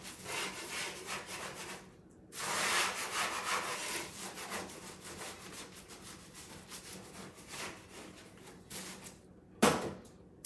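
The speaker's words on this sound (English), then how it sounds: "Get our scraper and get some of that stuck at the bottom." A scraper dragging across a surface to lift stuck homemade pasta dough, rough rhythmic scraping strokes up close and fairly quiet, repeating steadily with a sharper knock near the end.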